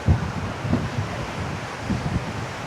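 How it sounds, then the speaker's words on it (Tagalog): Steady outdoor wind on Jeju Island rushes and buffets against the microphone, with low gusty rumbles rising and falling throughout. "Grabe, ang sarap ng hangin."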